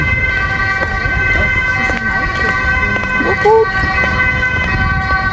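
An emergency vehicle siren wails along a rainy Amsterdam street beside a canal, a fairly loud warbling tone amid traffic noise and wind, with someone speaking over it.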